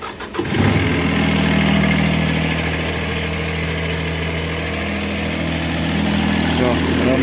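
A CAT 301.5 mini excavator's diesel engine cranks over briefly, catches and settles into a steady, loud, close idle that drones on, with a voice speaking faintly over it.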